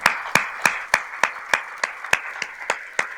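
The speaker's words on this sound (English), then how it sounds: "I invite you all to stand and join hands in applause as Mr. Edward Mackey makes his way to collect the award" At an awards ceremony, clapping greets Mr. Edward Mackey as he goes to collect an award: sharp, evenly spaced claps in a steady unison beat, about three per second, ringing in a reverberant hall with no speech.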